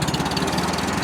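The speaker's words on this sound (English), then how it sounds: "Motor sounds great. It's nice, quiet, it idles." Wisconsin engine on a Reinco TM-730 skid-mounted straw blower idling steadily and close, a smooth, fairly quiet low rumble with a fine regular pulse and no talk over it.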